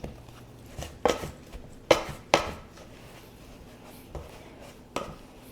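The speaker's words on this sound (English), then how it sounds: "Now I'm going to use a pastry blender and cut in a 1/2 cup of cold butter." A pastry blender cuts cold butter into apple crisp topping in a bowl, making a few scattered, sharp chopping clicks and scrapes, with quiet pauses between strokes.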